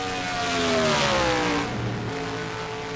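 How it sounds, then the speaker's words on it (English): A race car engine accelerates on a qualifying lap at the Indianapolis Brickyard in a PSRLA Cup Series session, holding a loud, sustained roar whose pitch climbs and then eases as the car passes. "Skip Silver is going to start his lap at the Brickyard."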